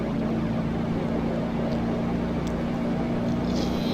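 Simulated car engine in BeamNG.Drive hot-lapping the Top Gear test track with an automatic transmission, a steady low droning hum holding a constant pitch throughout, loud and continuous with no talk.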